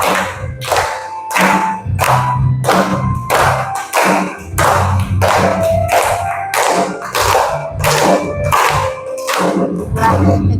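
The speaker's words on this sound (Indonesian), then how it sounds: "kita tepuk-tepuk, berdiri dulu." A group claps in unison at a classroom or school gathering, a steady loud rhythm of about two claps per second with brief pauses between bursts, before everyone sings the Indonesian national song.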